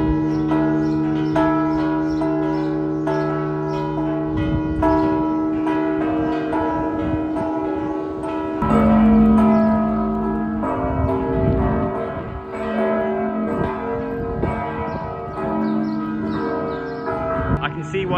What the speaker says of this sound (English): I hope this bell playing is copyright free.